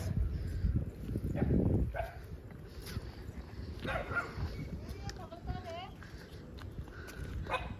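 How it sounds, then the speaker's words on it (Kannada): Dog barking in a village setting, a few brief barks standing out over steady outdoor noise and nearby footsteps, with people talking at moments. "ಬೊಗಳ್ತೈತೆ"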